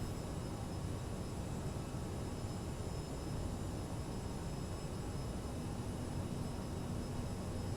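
Steady, dense jet engine roar from a Bombardier CRJ airliner in Microsoft Flight Simulator as throttle is increased in flight on autopilot, a continuous broadband rumble with no talk.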